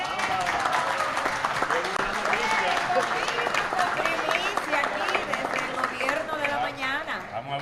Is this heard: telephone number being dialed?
no